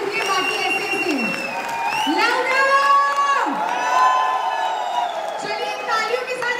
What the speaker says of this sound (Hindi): दोनों हाथ ऊपर करके जोरदार तालियां बजा दीजिए